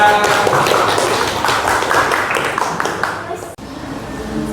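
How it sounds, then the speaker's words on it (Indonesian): A classroom group applauds after a presentation, a burst of hand clapping from several students lasting a few seconds, then cutting off abruptly, with voices mixed in. "Beri tepuk tangan untuk kelompok"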